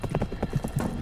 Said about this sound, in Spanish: ¡Galopa, Bree! ¡Galopa!